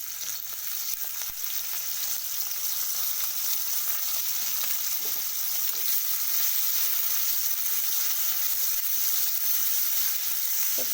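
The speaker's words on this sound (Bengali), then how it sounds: "তো পেঁয়াজটা একটু লাল লাল করে ভেজে নিতে হবে।" Onions frying in a little oil in a wok for bottle gourd chicken curry, giving a dense, even hiss that holds steady for the whole stretch, close and unbroken, with only an occasional faint knock.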